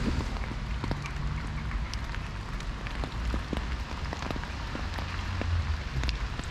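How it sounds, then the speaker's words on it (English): Heavy rain pours steadily on a hilly park in the UK, a dense constant hiss with scattered louder drops pattering nearby. "It is raining cats and dogs"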